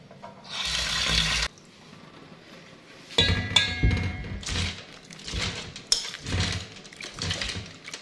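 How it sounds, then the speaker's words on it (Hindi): Water pours into a tamarind chutney mixture in a kitchen bowl, a steady splashing stream that stops abruptly, followed by softer sloshing and knocks as the mixture is worked. "अब इसके अंदर मैं थोड़ा सा पानी ऐड करूँगी।"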